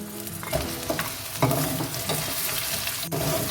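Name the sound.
frying onions until golden red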